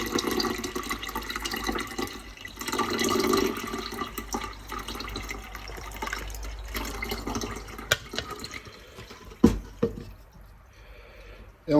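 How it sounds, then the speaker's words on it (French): Homemade lemonade poured into a carafe: a continuous trickle of liquid running into the vessel, soft and close, ending in a few clinks and drips. "on la fait couler dans la carafe définitive"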